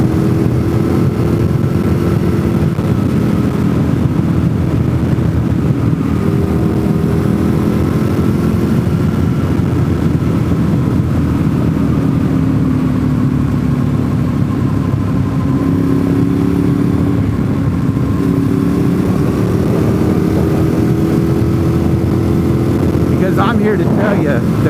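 A motorcycle rides along leaf-covered autumn roads, its engine droning loud and steady for the whole stretch with gentle rises and falls in pitch as speed changes, alongside wind rush.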